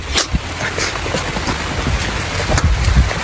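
Steady rain pattering on surfaces close by, with a few heavier drops and thumps, no voices.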